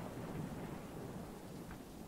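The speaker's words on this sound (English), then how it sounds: "You know, with the thunder." Thunder rumbling in the video game Choo Choo Charles, a low steady roll with rain-like hiss throughout, fairly quiet and continuous without a sharp crack.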